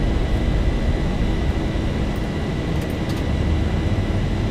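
An airliner's jet engines roar at full takeoff thrust in the X-Plane 11 flight simulator on a departure from Gatwick bound for Amsterdam, a loud, steady broadband rumble that holds unbroken throughout with no talk over it.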